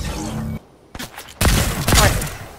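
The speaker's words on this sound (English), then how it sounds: "I'm busy trying to kill this f***ing bot who won't stop shooting at me" Gunfire from a bot in a superhero shooter video game, coming in bursts of loud shots after a short quiet gap, with the firing growing denser and louder toward the end.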